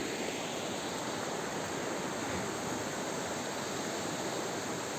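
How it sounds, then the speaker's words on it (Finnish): Water of the Hihkiönjoki river flowing at a crossing on a forest walking trail near Ikaalinen, Finland: a steady, dense rushing hiss that holds even and unbroken throughout, with no voices. "Aika lailla virtaa vettä joessa."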